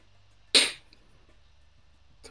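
A single sharp sneeze bursts out once, brief and fairly loud against near silence, followed by a faint click near the end.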